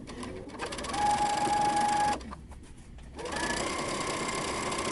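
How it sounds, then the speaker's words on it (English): Sewing machine stitching a fabric casing close to the edge of a T-shirt dress, running in two steady mechanical bursts with a brief pause between them, close and clear with no talking. "we're going to be stitching close to the edge of our fabric so that we can create a casing"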